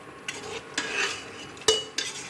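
A spoon stirs cashew paste and masala into mutton korma in a pot, giving a few spaced metallic knocks and soft scraping, close and alone.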